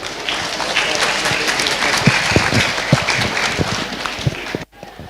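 A crowd applauds with dense, continuous clapping that holds steady for several seconds, then cuts off abruptly.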